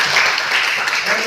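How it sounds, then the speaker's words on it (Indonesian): A classroom of students applauds a classmate, a dense, steady wash of clapping lasting just over a second with faint voices mixed in. "Bagus, tepuk tangan untuk Bella."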